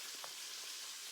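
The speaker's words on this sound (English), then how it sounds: "I can hear my bacon over there sizzling." Faint, steady sizzle of bacon frying in a pan, a soft continuous hiss with a few small pops.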